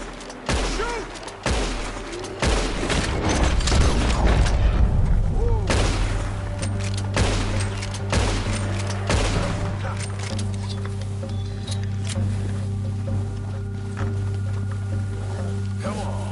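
Gunfire at a charging bear in Red Dead Redemption 2, a burst of booming rifle shots early on followed by a sustained rumbling mix of game ambience, with voices talking over it.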